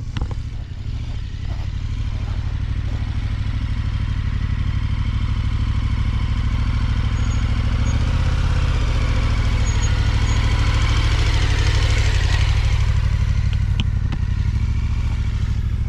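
An adventure motorcycle rolls down a steep dirt hill, its engine idling with a steady low chugging and clatter throughout.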